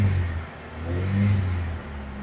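A 1989 Honda Prelude engine revs up to about 2,500 RPM and holds there, a steady mid-pitched idle rising into a sustained, louder hum that eases back near the end, with no one talking.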